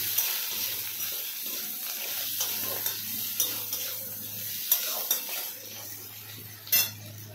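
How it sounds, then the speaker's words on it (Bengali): Onion and garlic cloves fry in a pan with a steady low sizzle, overlaid by frequent clinks and scrapes of a utensil stirring against the pan at close range. "এবার ভালো করে লাল লাল করে ভেজে নেব।"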